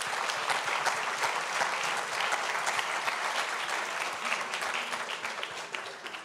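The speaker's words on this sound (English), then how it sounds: "So another round of applause, please." Applause from a conference audience at a talk on open-source software, a dense steady patter of many hands clapping close and loud for about six seconds, thinning slightly at the very end.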